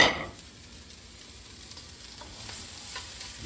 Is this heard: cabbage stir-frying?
yes